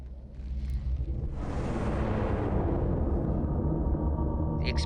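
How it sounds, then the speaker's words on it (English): A sci-fi television explosion swells into a deep, sustained rumbling roar that holds steady and loud for several seconds with no talking. "The explosion does not seem to have damaged Moya's systems."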